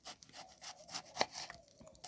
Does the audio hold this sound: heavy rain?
no